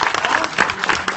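An audience at an improvisation comedy show claps loudly in dense, close, continuous applause.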